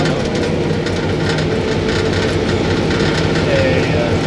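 Heavy EMD E8 diesel locomotive rumbling over a bad section of track, a loud continuous roar and rattling of the wheels, steady throughout, heard from the cab.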